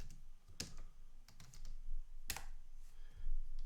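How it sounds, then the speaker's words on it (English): Typing on a computer keyboard while working in a terminal: a run of soft, irregular key clicks with a couple of sharper, louder strokes, close and alone with no voices. "If you don't like to use your mouse and just want to use your keyboard, you can now also just work in this terminal."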